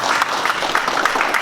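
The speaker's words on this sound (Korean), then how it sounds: "이러면 박수를 좀 쳐야 돼요." Lecture audience clapping in a short, even burst of applause at a Seoul National University forum, moderately loud and without speech.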